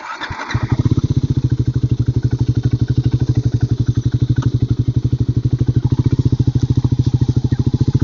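A Triumph Scrambler 400X motorcycle, about 200 kg, fires up and settles into a loud, steady idle. The single-cylinder engine thumps in an even, rapid rhythm close to the listener.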